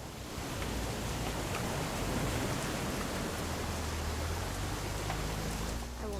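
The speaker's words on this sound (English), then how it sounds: "It's gonna rain the whole weekend, isn't it?" Rain falls steadily in the video game What Remains of Edith Finch, a dense, even hiss of drops that fills the scene from end to end at constant loudness.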